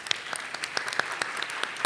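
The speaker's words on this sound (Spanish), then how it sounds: "Un aplauso para nuestros panelistas" Audience at a minerals-industry conference panel applauds the panelists, a dense, steady burst of many hands clapping throughout.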